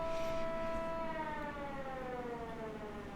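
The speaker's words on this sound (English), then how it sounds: "Tornado sirens going off." A tornado siren in the video game Schedule I wails steadily and loudly, its tones sliding slowly downward over a few seconds, with no talk over it.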